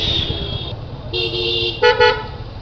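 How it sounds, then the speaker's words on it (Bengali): A car horn honks on a city street in Khulna, Bangladesh, sounding three loud, close blasts of differing length separated by short gaps, with traffic rumble underneath. "হর্নটা চরম হয়েছে"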